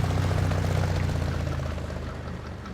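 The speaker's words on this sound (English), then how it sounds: "Adding extra revs is not really helping us at all," A truck engine revs hard while stuck in mud in Spintires: Mudrunner. The low, heavy drone is loud at first, then eases off gradually, and no one speaks.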